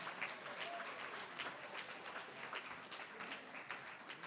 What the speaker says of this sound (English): let's give it a round of applause to our new elected executive directors